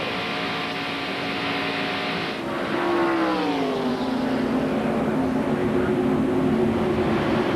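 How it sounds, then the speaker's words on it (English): NASCAR Winston Cup stock cars at full throttle on Talladega Superspeedway in 1993, a loud sustained engine roar with a pitch sweep as cars pass, continuous and without talk. "These cars down the corner will never back off the throttle."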